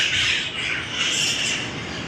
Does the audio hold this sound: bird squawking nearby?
yes